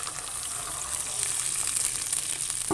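Milk poured into a cream and garlic sauce for chicken Alfredo, a steady gushing, hissing pour close by, slightly swelling toward the end.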